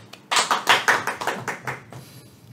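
A class of students claps hands together, a burst of sharp, overlapping claps that starts loud and gradually tapers off over a couple of seconds, with no talking.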